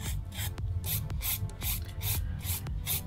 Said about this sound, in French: Donc on va pouvoir limer notre ongle, d'abord les côtés